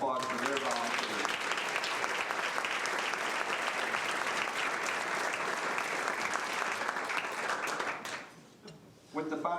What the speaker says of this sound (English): Let's give them a nice round of applause for their volunteers